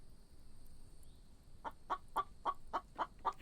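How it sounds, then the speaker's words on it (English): A rooster in a video game clucks in a run of about seven evenly spaced, fairly faint calls after a quiet stretch, over steady background tones. "Ooh, hello there, Rooster."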